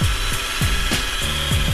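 A homemade blender built from a bent coat hanger spun in a power drill, making a steady high-pitched whirring buzz with rhythmic low thumps repeating about every third of a second, close and loud.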